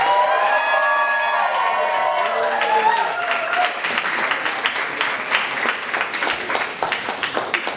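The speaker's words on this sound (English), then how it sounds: "Can you give her a round of applause at least?" A voice speaks first, then an audience at a drag show breaks into loud, sustained applause that fills the room and continues to the end.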